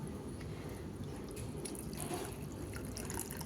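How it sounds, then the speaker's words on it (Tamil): Water pours from a vessel onto a lemon-sized lump of tamarind set to soak for pani puri, a steady faint splashing trickle close by with no talk. "போதும், இந்த அளவுக்கு தண்ணி இருந்தால் போதும்."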